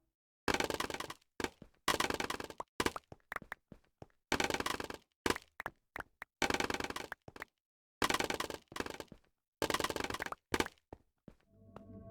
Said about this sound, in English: I love the sound of scaffolding breaking